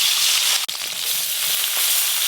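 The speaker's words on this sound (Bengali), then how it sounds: "এই চুনো মাছ তো অল্প অল্প ভাজতে হবে, নাহলে সব জড়িয়ে যাবে।" Small chuno fish sizzle in hot oil in a pan, a steady bright crackling hiss held close and loud, broken by one brief dip.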